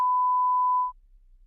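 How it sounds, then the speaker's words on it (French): A single pure censorship bleep tone, loud and steady for nearly a second, then cut off abruptly, leaving faint low background hum. "Mais je vous le bip parce que je garde la surprise."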